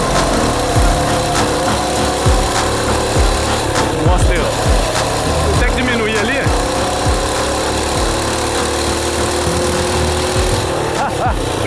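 A homemade motorbike engine pulling hard up a hill, a loud, buzzy high-revving drone held near the rider, with engine pulses and some rattling, while someone talks over it.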